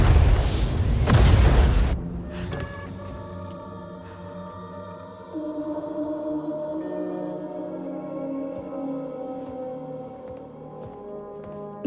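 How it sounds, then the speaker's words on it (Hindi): A missile explosion in a Hindi spy drama opens with a heavy, roaring blast that fills the first two seconds, then gives way to a lingering sustained tonal bed. "30 सेकंड में धमाका हो जाएगा।"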